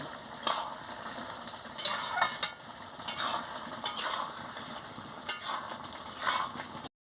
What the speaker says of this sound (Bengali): দিয়ে ভালো করে নাড়িয়ে নিচ্ছি।